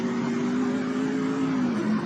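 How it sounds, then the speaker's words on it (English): A loud, steady endurance race car engine drone at high revs as it shifts through gears, holding a sustained tone that dips slightly near the end. "Again, just rolling through the gears at this point. Very fast car."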